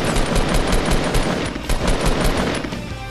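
Rapid rifle gunfire in a Fortnite match, dense repeated shots rattling loudly through the whole stretch with a steady rhythm and no talk over it.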